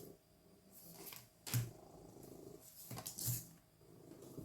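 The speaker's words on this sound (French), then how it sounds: "Nougat, tu ronronnes fort hein, quand même. Une vraie turbine" A domestic cat purrs loudly in repeated rumbling bursts close to the microphone, with a faint indoor background and no talk.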